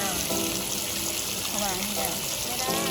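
Steady water runs and splashes as feet are washed at the Sankamphaeng hot spring in Chiang Mai, a continuous close hiss and trickle with people talking over it.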